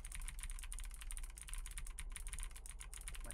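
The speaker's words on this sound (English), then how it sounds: "I'm gonna keep on typing this here" Rapid, continuous keyboard typing in the horror video game The Visitor, dense clattering keystrokes running steadily and close throughout with no talk.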